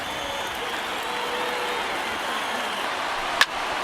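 A virtual stadium crowd of about 26,000 fans in MLB The Show 19, at a Miami Marlins vs Philadelphia Phillies regular-season game, roars in a steady, dense wash of cheering and applause, with a brief sharp click near the end.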